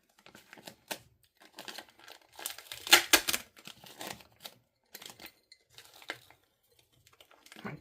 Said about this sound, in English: the clear vinyl that goes over top of it, or plastic, or I don't even know what that is. And you just very gently peel it back.